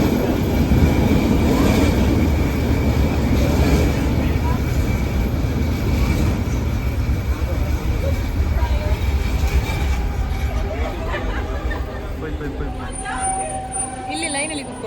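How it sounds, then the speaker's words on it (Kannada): A SkyTrain metro train rumbles past close by with a loud, continuous roar of wheels on rails, steady throughout and easing slightly toward the end as a faint squeal appears. "ಇದೇ ನಮ್ಮ ಸ್ಕೈ ಟ್ರೈನ್"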